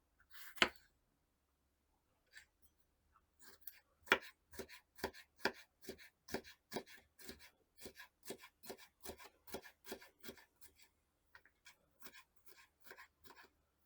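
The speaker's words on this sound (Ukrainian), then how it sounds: "Половину червоного перцю теж порізати смужечками." Knife chopping half a red pepper into strips on a board: a quick run of about twenty crisp, evenly spaced cuts, close and distinct against silence, after a few scattered knocks.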